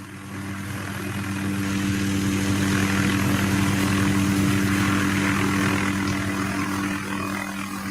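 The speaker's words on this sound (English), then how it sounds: "the operation, the helicopter tree sawing" A helicopter hovering with a suspended tree-trimming saw on a job site, a steady loud rotor drone with a broadband whoosh swelling slightly, continuous throughout.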